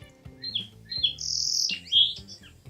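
A song sparrow sings nearby, with sharp introductory notes, a sustained high buzz, then a few quick chirps to finish.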